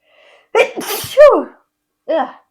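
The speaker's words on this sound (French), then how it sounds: "Attention, je vais éternuer." A single loud sneeze with a sharp inhaled build-up, followed by a brief pause and a short murmured sound.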